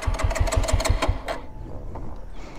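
A TVS Apache RTR 200 motorcycle with an engine that will not start cranks on its electric self-starter, a rapid, loud, rhythmic chugging for about a second before it cuts off into near quiet.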